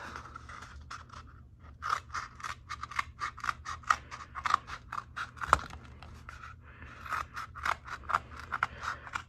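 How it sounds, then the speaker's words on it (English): Scissors snip repeatedly through a cardboard toilet paper roll, cutting it into rings: a steady run of crisp, close cuts with short pauses between bursts, no talking. "First, you cut the toilet paper roll into rings."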